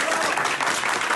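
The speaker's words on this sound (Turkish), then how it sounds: "O anda kumanda merkezinde alkış koptu." Applause erupts in a military command center after a successful bomb strike from high altitude, a brief dense burst of clapping at steady loudness.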